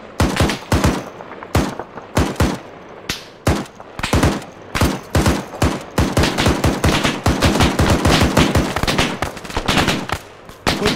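Sustained automatic machine gun fire in the military video game Arma 3, loud bursts of rapid shots with brief pauses, growing denser and nearly continuous toward the end.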